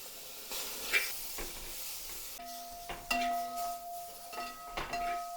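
Tomato dropped into roasting spice powder in a pan for a Kerala-style salmon curry, a soft hiss and sizzle with scraping stirs and occasional clinks, fairly quiet, no talking.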